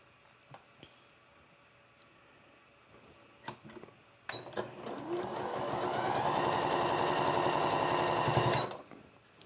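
A sewing machine chain-pieces fabric squares for a quilt block, running in one steady, fairly loud burst of rapid stitching for about four seconds after a few quiet handling clicks, then stopping abruptly.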